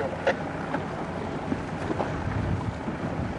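A sailboat races under way in the wind, with a steady loud rush of wind and water noise buffeting the microphone. A couple of faint knocks come from the boat.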